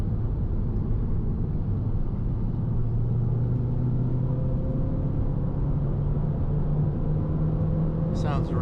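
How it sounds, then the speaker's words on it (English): A tuned Mazdaspeed 3 engine with upgraded high-pressure fuel pump internals drones steadily, a low harmonic line rising gradually in pitch as it builds to high RPM, heard from inside the car. "Sounds really healthy as she accelerates into high RPMs."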